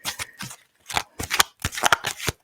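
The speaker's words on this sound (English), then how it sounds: "Let me shuffle again." Cards riffled and shuffled in several quick bursts with short pauses between, close and crisp, no voices.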